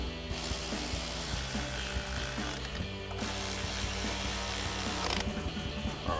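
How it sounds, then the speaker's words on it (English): A ratchet fitted with a 10mm socket tightens a bolt on a Silverado 1500 front upper control arm, giving a steady, close, continuous clicking that runs through the clip with brief pauses at the stroke changes. "Grab a ratchet 10mm socket and tighten that down."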